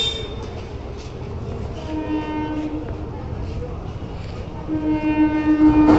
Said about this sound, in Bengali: ও এখন ট্রেন ঢুকে গেল।